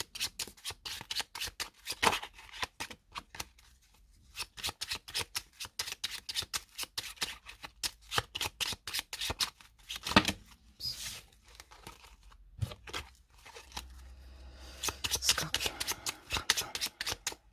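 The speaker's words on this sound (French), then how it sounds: "Allez, on y va avec le jeu de 32. On va commencer par une coupe." A 32-card deck being cut and shuffled, with rapid, crisp riffling flutters and card slaps in quick bursts throughout, close and fairly quiet; a voice briefly speaks.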